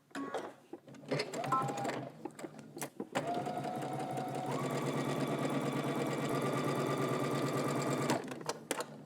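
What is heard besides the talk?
sewing machine stitching a pocket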